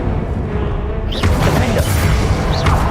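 Confringo fire spell blast in Hogwarts Legacy, a loud, dense burst of roaring, crackling noise that surges after a short rumbling lead-in and stays full and close to the end.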